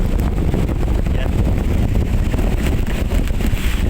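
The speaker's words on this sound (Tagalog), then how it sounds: "Grabe po, napakalakas yung hangin." Strong typhoon wind on the Manila Bay shore roars and buffets the microphone continuously, a loud, unbroken rush with gusty surges.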